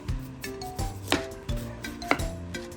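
A knife cuts through fruit with a handful of irregular, crisp thuds and knocks on a board, quiet and close, with faint clinks between strokes and no talk.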